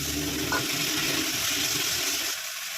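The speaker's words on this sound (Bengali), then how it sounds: "তিল দেওয়া জলটা একটু দিয়ে দিলাম" Sesame water poured into a curry of lote fish with fried potatoes and turmeric, a steady rushing pour of liquid close by that stops near the end, with no talk.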